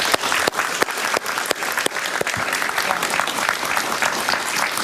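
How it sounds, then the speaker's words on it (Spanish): A crowd applauds steadily, a dense wash of many hands clapping at once, loud and sustained throughout with no pause. "La recibimos con un aplauso,"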